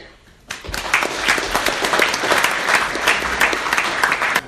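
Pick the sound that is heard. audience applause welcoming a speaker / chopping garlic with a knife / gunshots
audience applause welcoming a speaker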